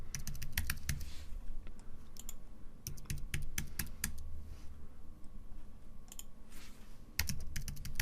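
Someone types in bursts of rapid keystrokes on a computer keyboard, with brief pauses between runs of clicks, close and clear with no talking.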